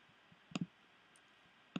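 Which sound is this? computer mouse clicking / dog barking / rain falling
computer mouse clicking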